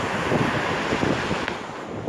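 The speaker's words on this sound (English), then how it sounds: "see all them waves out there?" Ocean waves wash steadily outdoors under heavy wind buffeting the microphone, a dense roaring rush without distinct breaks and with no speech.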